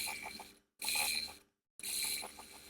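A sewing machine running a topstitch along a trouser hem whirs in three short, rapid mechanical bursts separated by brief pauses, quiet and close with no talking.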